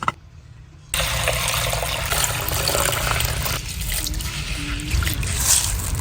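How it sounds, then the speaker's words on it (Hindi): Tangar lentils are washed in water, with a steady running, splashing wash of water starting after a brief quiet moment, close and fairly loud, with a few small clinks and no talking. "टांगर की दाल को धो लेंगे।"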